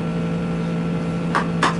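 A household furnace runs steadily in the background, a constant low hum with a faint whir, with two short muffled bumps near the end.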